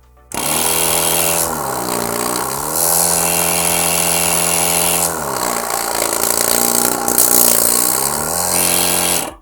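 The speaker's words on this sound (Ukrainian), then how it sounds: "Ну і тепер можна вімкнути сам компресор і послухати, як він буде працювати." A YATO YT-73462 car air compressor runs steadily and loudly for the whole stretch, a continuous mechanical drone with a strong hum and a slight cyclic rise and fall in pitch.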